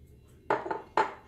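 Eggs are beaten with a hand whisk in a bowl, with a pinch of salt added. Two sharp, clinking strokes against the bowl stand out clearly, separated by a brief lighter tap.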